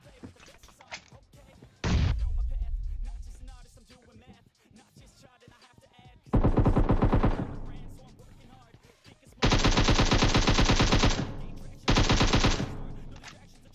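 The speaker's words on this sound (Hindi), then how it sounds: "यहाँ पे मैं गोलियां क्यों बर्बाद कर रहा हूं" Heavy automatic gunfire in the mobile battle-royale game PUBG Mobile, with a loud single blast followed later by long sustained bursts of rapid shots, separated by quieter stretches with a voice talking in between.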